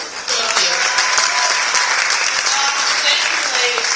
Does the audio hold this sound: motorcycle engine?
no